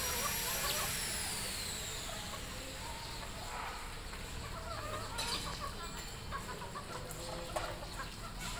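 Bantam chickens cluck softly and intermittently while being fed on an overcast day, over a constant hiss of background noise, with no talking.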